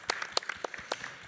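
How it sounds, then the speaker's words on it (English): Brief burst of audience clapping at a Stockholm+50 side event on gender justice and a healthy planet, scattered distinct claps rather than a full roar, moderately loud and without talk. "Let's applaud that."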